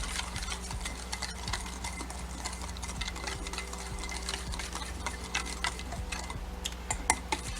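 A spoon stirs chopped scallions into a soy-based dipping sauce in a bowl, quick steady clinks and scraping taps repeating close by with no talk.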